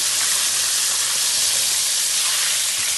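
Homemade Popeyes-style chicken tenders slow fry in hot oil, giving a steady, loud, even hiss that holds without pause and with no voices.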